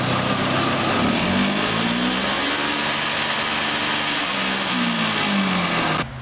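A 1,000-pound truck-mounted carpet cleaning machine with a Toyota engine runs steadily and loudly, its engine pitch rising and falling through several speed changes before cutting off abruptly at the end.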